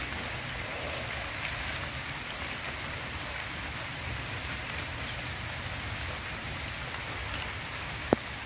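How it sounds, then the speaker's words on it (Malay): Light drizzling rain falls as a soft, steady hiss of fine drops on surfaces, faint and even throughout with no voices, broken only by a single brief tick near the end. "Hari hujan renyai-renyai"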